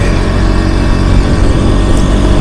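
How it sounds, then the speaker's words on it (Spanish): A KTM Duke 200 motorcycle engine drones steadily close by, a loud, continuous mid-pitched hum with a slightly rattly tone while riding, no speech over it. "La moto suena medio como tarro ya a esta altura"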